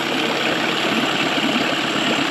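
An old outboard motor running in neutral gives a steady, loud, continuous mechanical drone with an even idle rhythm, alone and without talk.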